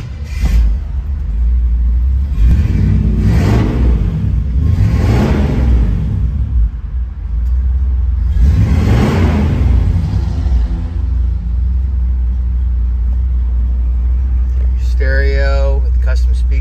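A 1960 Chevrolet Impala Pro Touring two-door hardtop with its engine idling in a deep rumble, then revving in several loud, swelling surges. A voice speaks over the engine, and a brief higher-pitched whine comes near the end.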